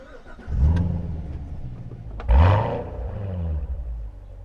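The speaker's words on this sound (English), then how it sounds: "let's fire it up and see what it sounds like." A 2014 Chevrolet Corvette Stingray Z51 with manual transmission fires up: a starter crank and catch into a deep roar, then a second sharp rev blip that settles into a loud, rumbling idle.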